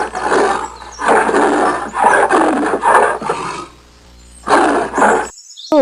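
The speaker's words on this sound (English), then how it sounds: "leopard," A leopard gives a series of loud, close, rasping roars in rhythmic bursts, pauses briefly, then gives two more coarse sawing calls.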